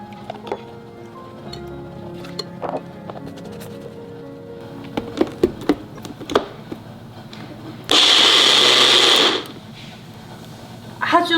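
A kitchen blender coarsely grinds mung beans and glutinous rice with water in one loud, whirring burst of about a second and a half. Quieter clicks and handling noises come before it.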